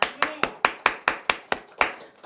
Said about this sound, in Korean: 이럴 때는 박수를 한번 쳐줘야 돼요.